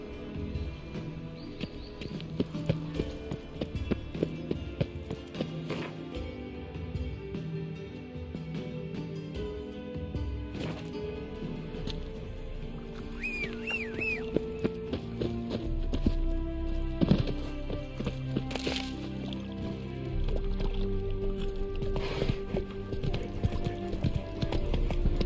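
Geralt's horse Roach clip-clops along in The Witcher 3, steady hoof beats at a walking pace under ambient game sound, with occasional thuds and a faint voice.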